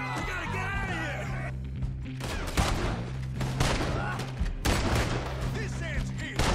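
Gunfire in the Western video game Red Dead Redemption 2, a cluttered burst of shots and impacts mixed with game music and shouting voices, fairly loud and continuous through the scene.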